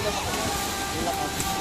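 Strong ocean waves wash in at Isola Vista Beach Resort, a steady, dense roar of surf and splashing with no clear breaks, with voices faintly present underneath.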